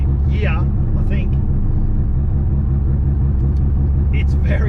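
A modified Mazda RX7 on the road, its engine a steady loud rumble throughout with a few faint higher chirps over it.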